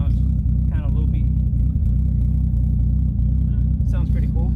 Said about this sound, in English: Here's the lope with the 264 cams. And you can definitely hear it.